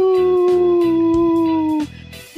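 A person's voice imitating a jackal, one long wavering howl that holds steady and slides downward before breaking off into a short rough tail, loud and close.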